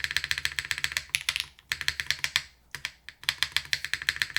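Typing on an Ophanim mechanical keyboard, rapid poppy keystrokes in steady bursts with a couple of brief pauses, close and clear with no talking.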